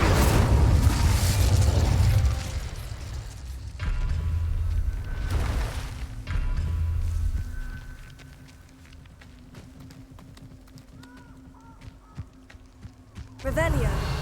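Bursts of fiery Incendio spell blasts in Hogwarts Legacy on PS5, loud whooshing explosions early on that fade into quieter ambient combat, with voices heard through the scene.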